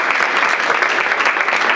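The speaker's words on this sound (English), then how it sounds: "let's give Gene a round of applause" Steady audience applause fills the room at the close of a talk, a dense wash of clapping hands with no break, fairly close and loud.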